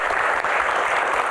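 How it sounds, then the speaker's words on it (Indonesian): Studio audience applause fills the moment, a dense, steady wash of clapping with no voices over it. "tepuk tangan buat kita semuanya."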